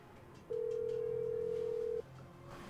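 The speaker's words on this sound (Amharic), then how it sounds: "ዝም በይ፣ ስልኳ እየጠራ ነው።" A phone rings indoors with a single steady electronic tone lasting about a second and a half, fairly loud over a quiet room.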